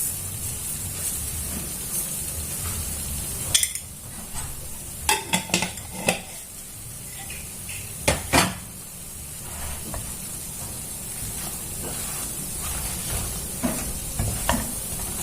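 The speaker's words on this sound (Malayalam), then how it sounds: "നല്ലോണം ഒന്ന് മിക്സ് ചെയ്തിട്ട് ഇതിലോട്ട് കുറച്ച് ഷുഗർ ഇട്ട് കൊടുക്കുക." Spoon stirring and scraping a pan of sugar-coated fried bread candy, with faint sizzling and clattering utensil knocks in scattered bursts; no talking.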